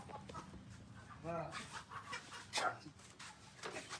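A chicken weighing 4.9 kilograms clucks a few times amid background noise and rustling, with a short harmonic squawk partway through.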